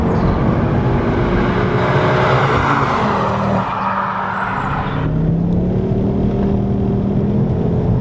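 A Ford Focus ST accelerates hard with the pedal pushed fully down, a loud, close engine roar that climbs in pitch, eases off for a moment, then settles into a lower steady drone.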